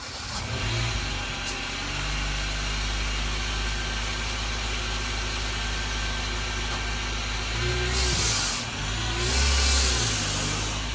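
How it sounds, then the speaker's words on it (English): A Honda Civic Si EP3 rally build, long abandoned, runs and drives under its own power, its steady mid-pitched engine droning outdoors with brief revs and bursts of noise near the end. "It's actually going to move under its own power for the first time in 5 years."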